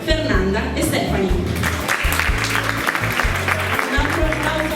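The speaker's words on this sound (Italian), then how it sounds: "direi di fare un grande applauso alla nostra mascotte Giulia e alle due bellissime ballette della serata, Fernanda e Stefani." Applause from the audience at a regional final of an Italian beauty pageant, steady clapping from a crowd throughout, with music or amplified sound underneath.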